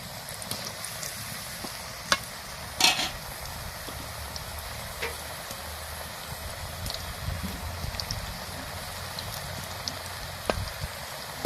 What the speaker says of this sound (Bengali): তেল গরম হয়ে গেছে। এবারে কিছু কিছু করে দিয়ে দেব।